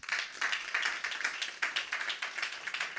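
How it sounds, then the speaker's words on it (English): An audience at a startup conference event gives a burst of applause, dense clapping that rises quickly and holds at a moderate level for a few seconds. "A round of applause for them, please."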